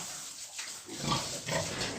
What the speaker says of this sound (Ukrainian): чують, що свинка годує і гукає